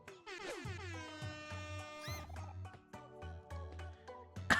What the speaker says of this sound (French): C'est une grosse corne de brume.